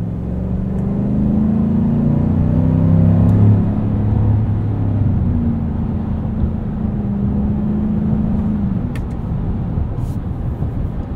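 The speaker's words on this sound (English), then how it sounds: "I want to be able to hear that V8" A 6.2-litre V8 in a 2024 Chevrolet Silverado 1500 High Country pickup rumbles loudly and steadily from inside the cab, swelling a little as it revs while the truck drives along.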